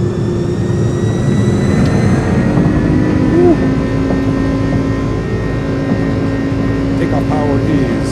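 iniBuilds A300 airliner engines spooling up toward takeoff power in MSFS, a loud sustained jet roar with steady whining tones and deep rumble that barely changes over several seconds, a voice speaking faintly underneath.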